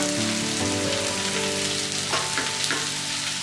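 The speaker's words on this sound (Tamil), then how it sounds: "இப்போ லைட்டாக அந்த வெங்காயம் வதங்கிடுச்சு. இப்போ இஞ்சி போட்டுக்கோங்க," Onions, ginger and curry leaves sizzle in hot oil in a pan for a chicken curry, with a steady, close crackle and a few louder spits partway through; a sustained tonal hum runs underneath.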